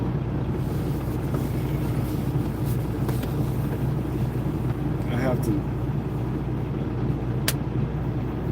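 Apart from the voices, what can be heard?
idling truck rattling gear shifter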